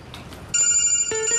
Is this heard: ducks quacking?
no